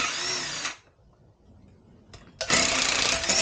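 An impact wrench loosening the rear sprocket nut on a motorcycle during a sprocket and chain upgrade gives a loud burst of buzzing, a pause with a short blip, and then a second sustained hammering run.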